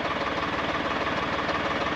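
A tractor engine idles nearby with a steady, rapid knocking chug, loud and even for the whole stretch, with no voices over it.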